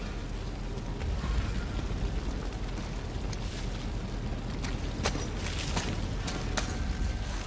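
A rumbling explosion in the video game Uncharted 4, a steady, loud roar of debris and crackle with several sharp bursts and pops scattered through its later part, heard alone without talk.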